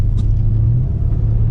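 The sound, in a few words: Audi RS6 Avant accelerating with throttle applied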